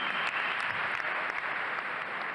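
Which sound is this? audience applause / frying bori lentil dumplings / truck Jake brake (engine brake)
audience applause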